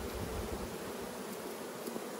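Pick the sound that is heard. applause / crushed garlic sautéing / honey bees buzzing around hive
honey bees buzzing around hive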